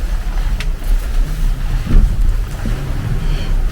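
A sailboat under way on the Baltic Sea in about 15 knots of wind, with steady wind rush and water wash against the hull, low rumbling gusts and faint creaks close by.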